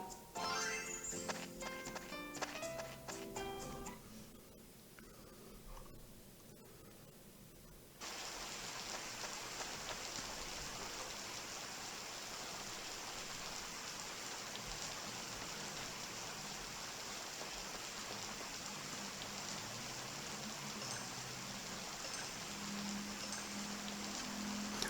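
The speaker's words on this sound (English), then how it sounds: "You'll just have to hear just the rain noise." Steady rain hisses in the farming game Stardew Valley, a continuous even wash after a few seconds of game music and sound effects at the start, with no talk.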